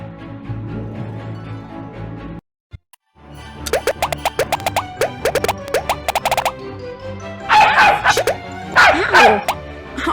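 A dog in a Nancy Drew video game yaps and barks in quick repeated bursts, with whimpering yips and wet bubbly burping sounds toward the end, loud and close over a low background hum.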